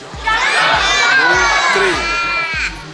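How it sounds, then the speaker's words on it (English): A zoo crowd of adults and children shouting together on a count of three at a Taronga Zoo presentation, a loud sustained mass yell of overlapping voices that holds for over two seconds before cutting off. "On the count of 3, we want you to yell jump Bondi and throw your arms in the air."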